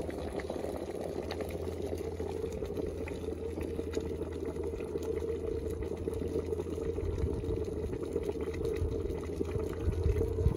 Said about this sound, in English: So we just allow the kettle to boil it.